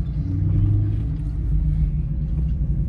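A salvage Audi RS5 in sport mode with the windows down gives a low, steady engine rumble from inside the cabin while driving, with a slight swell partway through.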